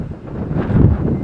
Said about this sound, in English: here we are on the Humber, and it's windy.